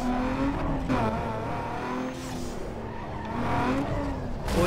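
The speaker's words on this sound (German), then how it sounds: "Da mache ich voll die Felle mit meiner Bremse." A street racing car in Need for Speed Underground 2 brakes hard, its tires squealing and skidding in a sustained screech over a steady engine roar, loud and close throughout.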